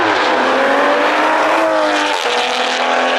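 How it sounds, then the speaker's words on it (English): A BMW/Supra with a B58 engine, AWE Touring non-resonator exhaust and catless downpipe revs hard, a loud, continuous raspy exhaust roar with pitch climbing and dipping slightly, close up and alone. "Next thing on the list is my AWE Touring non-resonator exhaust"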